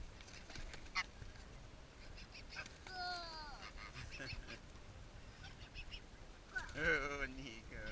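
Geese honking and calling while being fed bread by people, with a cluster of loud, close honks near the end over a background of light talk and rustling.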